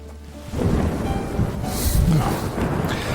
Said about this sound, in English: Far heavier downpours.